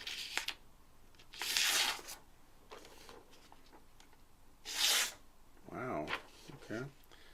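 A Cold Steel 1849 Rifleman's Knife slices through printer paper in two short, rough rasping strokes, each about half a second long and a few seconds apart, followed by faint handling noise.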